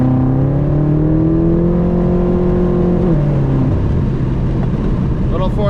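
A BMW M6 pulling hard in fourth gear, its engine note rising steadily as it accelerates, with a deep droning tone that climbs in pitch and then dips briefly, loud and close throughout.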